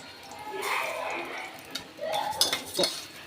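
Raw rice and moong dal roasting in ghee in a pan, with soft sizzling and stirring, a spoon scraping and tapping the pan, and a voice speaking in the background.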